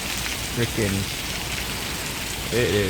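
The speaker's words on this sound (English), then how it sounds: "Super rain, man. Look at that." Heavy rain pours down during a storm in a dense, constant hiss, with someone briefly speaking over the downpour.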